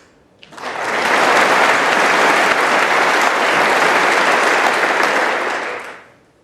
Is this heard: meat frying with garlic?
no